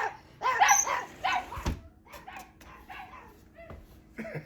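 A dog that wants to play barks and yips in short bursts indoors, close and loud at first and then softer whimpering yelps with pauses between them.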